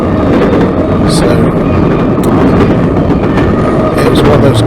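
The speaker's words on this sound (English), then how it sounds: "Train's headed northbound, headed for Jessup." A loud, dense rumble of a northbound CSX freight train rolling past nearby, steady throughout with occasional clanks and rattles.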